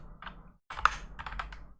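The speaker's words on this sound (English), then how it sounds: "Sorry about my clackety keyboard. It is a very noisy keyboard." Fast clacking keystrokes on a noisy non-mechanical computer keyboard, close and fairly loud, in two bursts split by a short silence, with no talking.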